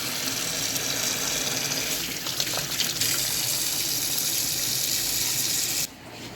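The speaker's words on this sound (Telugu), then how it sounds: "ఇప్పుడు కడగాలి వాటర్తో" Running tap water gushes steadily over a cleaned sheep's head being washed in a sink, with rubbing and splashing changes partway through before the flow drops off near the end.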